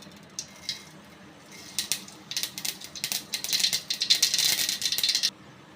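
Mustard seeds spluttering and crackling in hot oil in a pan on a low flame, a dense patter of tiny pops that builds from sparse crackles into a steady sizzle, then stops abruptly.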